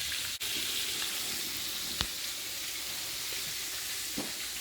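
Red snapper fillet with skin on frying in hot oil, giving a steady broadband sizzle throughout with a brief clatter as it is flipped, close and fairly loud with no talking.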